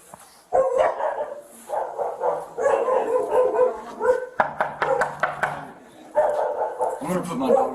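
A dog barks repeatedly in close, loud bursts, then whimpers and yips in an indoor setting, mixed in with people talking excitedly.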